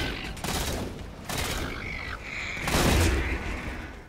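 Rapid bursts of gunfire in the Halo 4 video game, loud sustained volleys with a brief pause between bursts.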